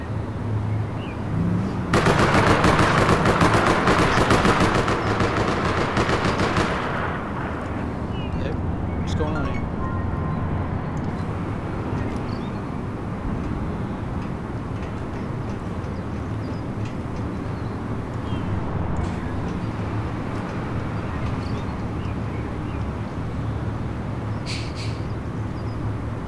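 Gunfire and explosions in the online shooter APB Reloaded, a loud rapid burst of shots for several seconds followed by a rumbling, noisy stretch of distant bangs and ambient game sound.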